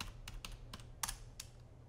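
A handful of separate key presses on a computer keyboard while a search is typed in the Far Cry 5 map editor, spaced irregularly and close, quiet over a steady low hum.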